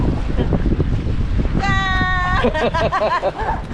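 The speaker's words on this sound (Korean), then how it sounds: "갑자기 여기 바람이 왜 이래 불어" Strong wind buffets the microphone at the seaside near Sydney with a dense, roaring rumble that runs throughout, while voices exclaim and talk over it.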